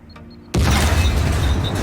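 A C4 charge detonates in the survival game SCUM, a sudden loud boom after a half-second of quiet beeping, followed by a sustained roaring rumble.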